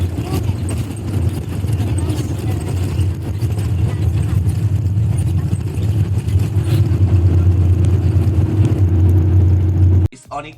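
Bus with no air conditioning rides from Mandalay airport toward downtown, its engine droning loudly and steadily and the ride rattling and jolting, with a rising hum that cuts off abruptly near the end.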